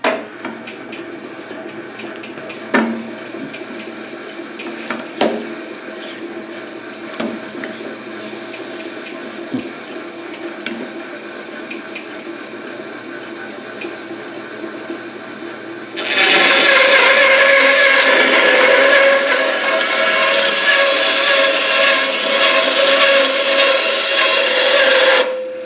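Hand saw trimming a piece of wood for an orchid mount, a steady loud rasping stroke that starts partway through after quieter handling sounds and runs continuously to the end, with no talk.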